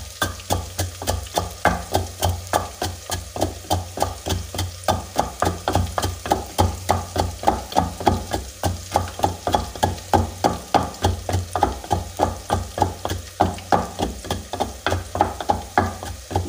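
Raw onion and ginger sizzle steadily in a hot pan while a spoon stirs in a regular rhythm, each scrape and push raising a soft crackling pulse over the continuous frying hiss.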